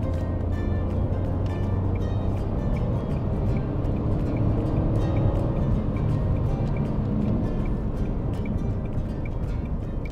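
A Dacia Sandero SCe65 small petrol engine revs hard during an overtaking pull, with a steady, loud droning hum and road noise inside the cabin throughout.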